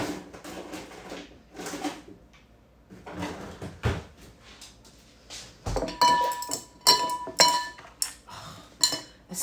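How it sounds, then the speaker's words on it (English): Three ice cubes clink into a glass of whiskey for a coffee old fashioned, giving a cluster of bright, sharp clinks close to the mic, with softer handling clatter before them. "I'm going to put 3 ice cubes in."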